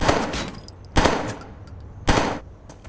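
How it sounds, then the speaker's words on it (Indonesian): Three sharp gunshots ring out, spaced about a second apart, each followed by a brief fading echo against a quiet background. "Chris mengejarnya dengan tembakan."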